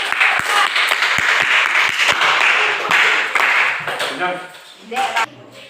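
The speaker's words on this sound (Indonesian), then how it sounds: "Ya, beri aplaus." Classroom applause as students clap after a group presentation in a teaching session, a loud burst of many hands that thins out and fades, with a few scattered claps near the end.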